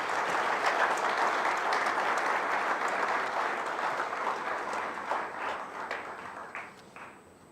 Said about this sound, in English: May I request all of you to give a big applause to welcome our chief guest